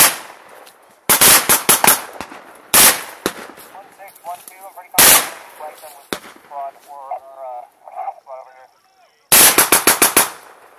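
Loud bursts of blank-firing automatic gunfire at an airsoft milsim event, coming in several rapid rattling volleys separated by pauses, with shouted voices between the bursts.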